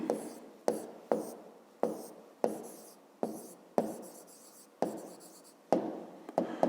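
Math notes for a 5th-grade exercise are handwritten, with a steady series of close, scratchy pen strokes in short bursts, each starting sharply and then tapering, and no talk.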